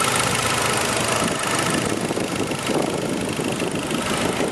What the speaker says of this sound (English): equipped with Hyundai's 2-liter turbocharged 4-cylinder, which is running very nice and smooth